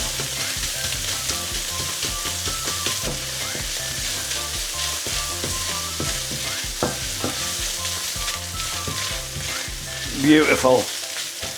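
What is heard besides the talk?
stir-frying Cumberland sausage fried rice in a wok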